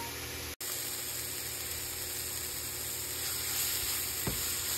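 Samosa masala of turmeric, red chilli and cumin frying in hot oil, a dense continuous sizzle and hiss close up, broken by one brief gap and a faint stir knock near the end.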